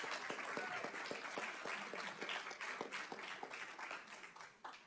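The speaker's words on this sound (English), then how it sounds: "I'd like to give her a big round of applause for all the work that she's done this year" Steady audience applause at a school district governing board meeting, honoring the board president: dense, even clapping from a room of people that holds for about five seconds and tapers slightly at the end.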